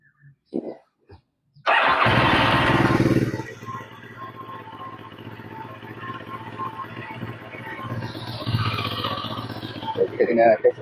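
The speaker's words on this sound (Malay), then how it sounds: "So, kita startkan enjin kita." A Moto Morini Calibro 700 Bagger motorcycle engine cranks and catches, roaring loudly before settling into a rough, steady idle, with a few revs near the end; it has a torn coolant reservoir hose.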